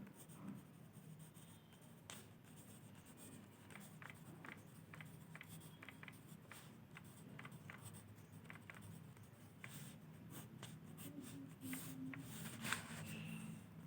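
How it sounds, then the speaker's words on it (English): Pen writing out the steps of a geometry construction on paper, a faint scratching stroke pattern with small taps, close and quiet over a steady room hiss, without speech. "now we write the steps of construction"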